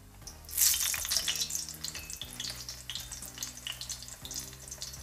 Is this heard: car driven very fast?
no